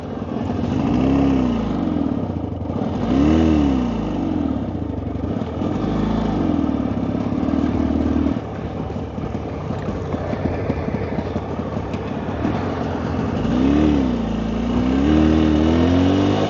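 A Jawa 350 motorcycle engine with a charging fault runs on battery power alone, close by and loud, its note rising and falling through several revs before settling into a rough, uneven idle.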